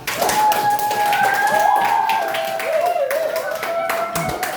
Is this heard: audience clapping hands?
yes